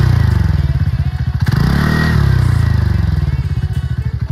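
TVS Ntorq 125 scooter idling and revving on its stock exhaust, a close, loud pulsing putter that swells with a blip of throttle midway then settles back to a rhythmic idle.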